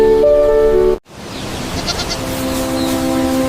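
Goats bleating, including Boer, Saanen and Anglo-Nubian breeds: a clear sustained bleat, an abrupt cut to silence, then another long wavering bleat over faint background noise, close and loud.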